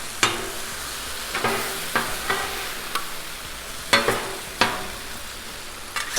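Ground meat sizzles on a Blackstone griddle, a constant hiss with a scattering of sharp scraping strikes from a spatula at uneven intervals, close by and free of talk.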